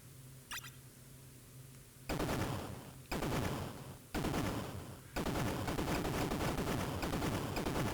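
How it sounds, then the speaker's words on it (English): Explosions in the retro video game Roll Chan World III, a faint blip followed by four loud bursts of crackling blasts in quick succession, the last one running on as a sustained rumbling barrage. "Is that the exact same explosion sound they use in some of the other games?"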